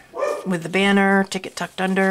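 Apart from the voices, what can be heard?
dog barking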